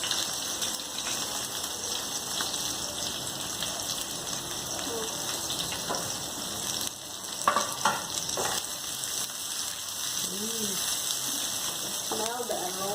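Onion and garlic fry in a pan with a constant crackling sizzle, like rain on a surface, with occasional stirring scrapes and faint background voices near the end.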